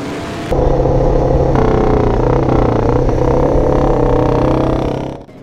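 An original long-stroke Manx Norton racing motorcycle ridden at Donington Park, its single-cylinder engine roaring loud and close with a strong steady drone that holds for about five seconds before dropping away.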